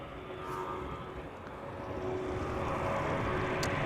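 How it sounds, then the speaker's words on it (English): A Delta Airlines Airbus A330-300 jet takes off from the Polderbaan runway at Amsterdam Schiphol on its second attempt, its engines a steady, broad roar that swells slightly louder over a few seconds, with no voices. "The Delta Airlines flight on its way now successfully in second instance, on second instance."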